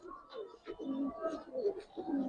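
Soft, rounded cooing from a male pigeon at a Bengali pigeon market repeats in low pulses close by, with faint voices and chatter in the background.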